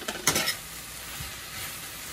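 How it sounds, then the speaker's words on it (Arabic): Onions and sliced mushrooms sizzle in a pan while a utensil scrapes and stirs, with a couple of sharper clinks at the start over a steady low frying hiss. "تقلوا شوي البصل، رح زيد هلا المشروم فوقهم مقطع."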